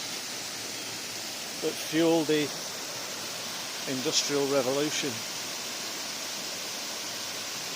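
Stream of water flowing in Cragg Vale, West Yorkshire, a steady broadband rushing that stays loud throughout, with someone talking over it twice.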